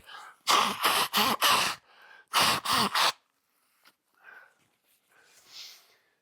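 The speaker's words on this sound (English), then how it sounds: "I'm gonna blow my nose" Two loud bursts of nose blowing, each a quick series of forceful honks, followed by quieter sniffs and breathing nearby.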